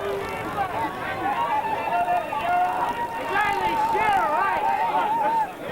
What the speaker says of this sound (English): Listen to the crowd, they're saying, hug, hug.